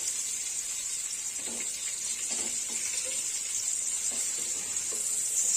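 Bangda mackerel fish fry slowly in oil in a pan, giving a steady high hiss, with a few soft clatters as the pieces are turned over.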